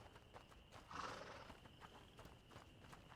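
Horse in the video game A Plague Tale: Innocence, a quiet snort and whinny rising briefly over soft hoof clops and a low ambient game background.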